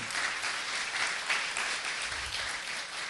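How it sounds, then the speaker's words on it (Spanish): A church congregation applauds steadily throughout, a dense, continuous wash of clapping with no speech over it. "denle aplauso al Señor porque es la verdad"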